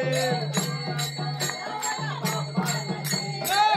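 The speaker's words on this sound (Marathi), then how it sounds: "अरे गान गान गान गान घंटा वाजे." A bell rings in steady rhythm as part of a Ganpati procession song, with repeated bright strikes over sung vocals and a sustained low drone.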